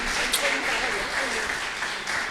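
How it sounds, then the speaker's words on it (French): An award ceremony audience breaks into loud, sustained applause, a dense wash of clapping that fills the hall, with a voice speaking over it. "ça s'applaudit très fort"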